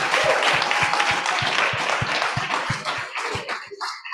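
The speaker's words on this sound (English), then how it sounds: "give another round of applause for all the amazing entrepreneurs who hit the stage here tonight" Audience applause at a startup pitch night, dense steady clapping from a crowd for the entrepreneurs, loud and sustained before thinning out near the end.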